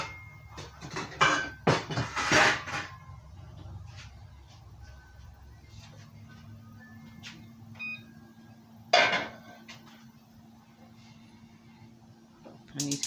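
A skillet is pulled out and handled in a home kitchen while cooking hamburger steak: a cluster of clanks and knocks early on, one sharper clatter later, over a low steady hum.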